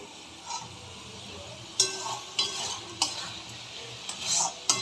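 Small prawns are stir-fried with coconut for malaikari, with a steady sizzle under sharp spatula scrapes and clinks against the pan at irregular intervals and no voices.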